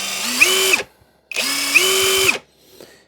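Litheli U20 brushless impact driver spinning in its smart wood mode, two loud near bursts of whirring motor that ramp up in pitch and then stop sharply, with no talk.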